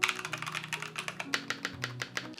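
Typing on a modded Razer BlackWidow V4 75% gaming keyboard, a steady run of crisp, close keystrokes with clicky tapping at an uneven pace and a faint electronic tone underneath, no voices.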